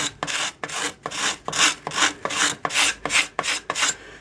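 A rasp shapes a yew bow limb in steady back-and-forth strokes, about nine loud rough scrapes in a close, even rhythm with no talking.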